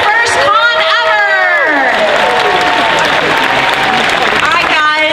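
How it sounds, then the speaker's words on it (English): Audience applause and cheering at the Dragon Con Friday night costume contest 2017, a crowd clapping loudly and steadily throughout, with voices calling out over the dense wash of hands. "Please give a big round of applause for Brandon and his first con ever."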